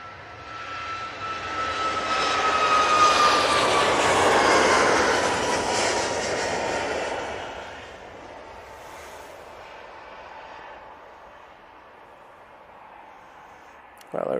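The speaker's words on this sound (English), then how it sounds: "Ryanair 737 MAX 8 on the roll." A Ryanair Boeing 737 MAX 8 rolls down the runway and takes off at Manchester Airport. The jet engine roar swells loudly, then fades into a distant rumble as the aircraft climbs away.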